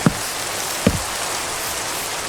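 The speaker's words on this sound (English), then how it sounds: "This rain, though, my goodness," Steady rain hisses down in the Minecraft video game, a dense even wash of falling drops with a couple of faint thuds, and no voices.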